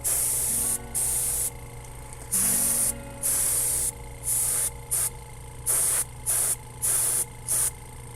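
Bursts of clear coat lacquer sprayed onto a Nerf blaster, about eleven loud hissing blasts of roughly half a second each, separated by short pauses, with a steady low hum underneath.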